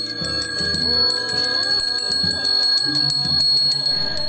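A Balinese priest's hand bell, a bajra or genta, rings at a temple ceremony, with a sustained bright metallic tone close by and other sounds layered over it.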